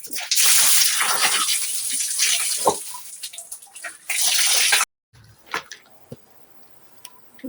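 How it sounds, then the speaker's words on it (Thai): Freshly dug mountain crabs are washed under rushing water that pours and splashes loudly, then stops abruptly, leaving scattered drips and small knocks nearby. "ไปล้างปูด้วยนะคะ"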